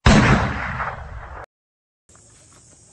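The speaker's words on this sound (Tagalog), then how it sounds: "Sabay ng ikalawang pagpalo ni Mautang sa bilanggo ay ang pag-alingawngaw ng isang putok." A single loud gunshot bang with a long decaying roar rings out in a Filipino radio drama about Spanish-era rebels, then cuts to near silence before a faint, thin background hiss returns.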